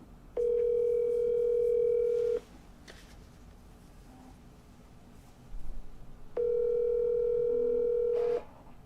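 A telephone ringback tone sounds while a call is placed, with two long steady tones about four seconds apart, quiet and clean with faint background noise between them.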